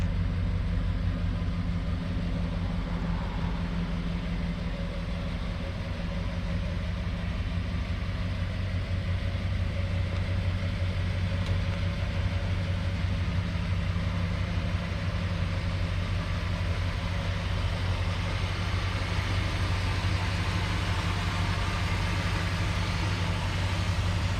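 A 1966 Ford Galaxie 500 convertible's engine runs steadily at idle, a loud, close, continuous low rumble with no talk over it.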